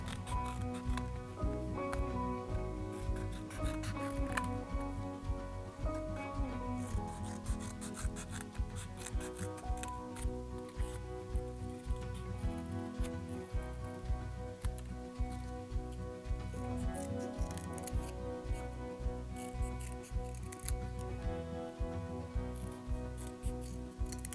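Scissors snip steadily through paper while cutting out a jaw shape, close and continuous rhythmic crisp clipping over a quiet background of soft music, with no talking.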